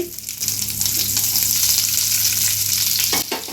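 Lentils fry in a little oil for tempering, a loud, close, continuous sizzle with faint stirring scrapes and no talk.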